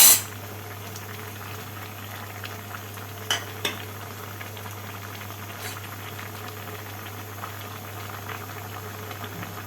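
Bamboo shoot vegetables boiling in a pot make a steady bubbling simmer with a low hum throughout, broken by a couple of faint clicks, and no one talks.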